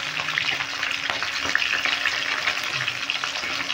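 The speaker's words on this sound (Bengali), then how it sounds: "দেখো মাছটা ভাজা হয়ে গেছে, মাছের মাথাটা।" Katla fish head fries in hot oil in a pan, giving a loud, continuous sizzle and crackle with occasional stirring scrapes, close up and without talk.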